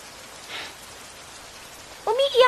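Light rain falls at a graveside in a cemetery, a soft steady patter under a brief rustle and a louder close sound near the end.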